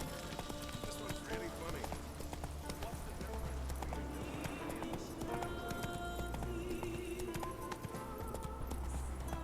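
Roach the horse in The Witcher 3 clip-clops steadily up a fortress switchback, hooves thudding in a continuous rhythm over game music and ambience, with a faint whinny and someone talking at points.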